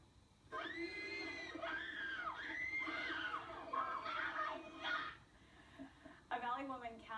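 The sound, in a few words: screaming Beatles fans in New York, 1964 recording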